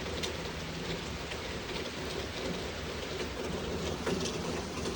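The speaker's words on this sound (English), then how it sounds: "But we do need the rain here in this area." Steady rain falls as a soft, even hiss with faint scattered drops, fairly quiet and with no voices.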